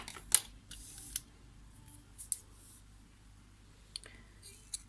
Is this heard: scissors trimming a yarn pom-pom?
yes